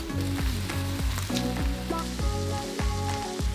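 Spring onion frying with Mee Siam Goreng noodles in a hot pan, a dense continuous sizzle with rhythmic tossing scrapes repeating about twice a second, loud and close, no speech.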